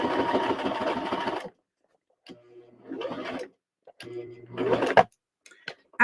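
A Kirby sewing machine stitching in short bursts: a steady whirring run first, then pauses broken by quieter stops and starts and a few clicks, close and with no talk.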